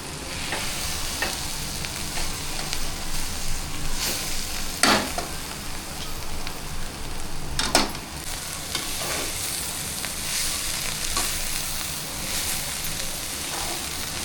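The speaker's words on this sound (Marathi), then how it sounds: "कोलिम टाकला, त्यात भाजी टाकली." Bhargi greens cooking with dried shrimp in a pan, stirred steadily with a soft continuous sizzle and periodic scraping strokes, close and alone with no talk.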